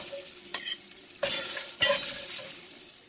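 Eggplant slices for a summer salad fry in a pan with a steady close sizzle, broken by a few sharper bursts of crackling as pieces are turned or added.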